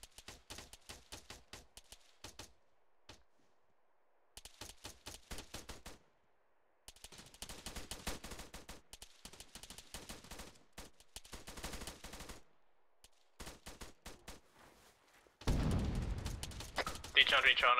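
Gunfire in the Arma video game crackles from a tree line in repeated bursts and single shots, with gaps of silence between them, ending in a louder burst at the end.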